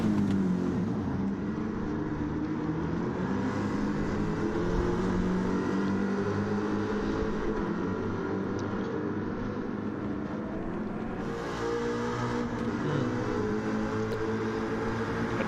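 A Ford Mustang V8 Supercar engine drones steadily at high revs in a racing game, a continuous loud buzzing roar with slight pitch shifts as it races, no voices over it.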